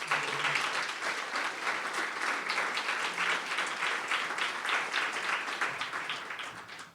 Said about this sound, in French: Je vous invite à l'applaudir, s'il vous plaît.